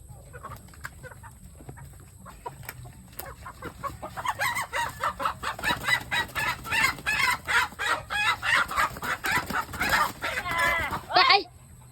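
Shamo chickens cluck in rapid, repeated bursts that grow louder and denser midway, close by and agitated, with people talking underneath.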